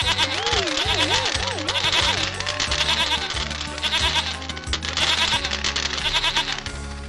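A cartoon goat bleats repeatedly over a busy, loud musical score, its wavering cries rising and falling above the steady backing music with no talk.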